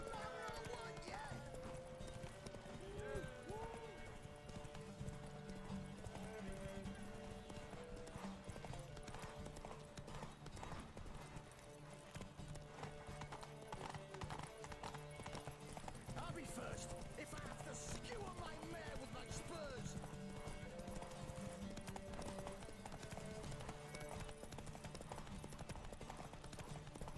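Steady clip-clop of a mare's hooves in The Witcher 3, a continuous rhythmic trot running the whole time beneath game music and characters talking.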